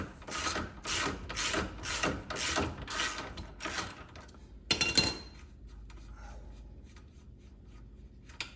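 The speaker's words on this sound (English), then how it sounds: "try to adjust the jack up or down just slightly" A jack is worked under a 2020 Honda Talon 1000X-4 side-by-side, giving a run of rapid metallic ratcheting clicks in regular strokes, then a sharper clank and a quieter pause.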